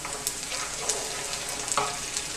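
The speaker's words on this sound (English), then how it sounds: "I'm frying the tomatoes, and I'm frying the onions, and I'm frying the chilies" Tomatoes, onions and chilies fry in a pan with a steady, close sizzle and crackle, punctuated by a few sharper pops and stirring scrapes.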